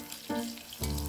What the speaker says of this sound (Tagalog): natapos na rin ako magprito nitong itlog